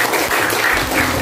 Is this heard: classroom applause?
yes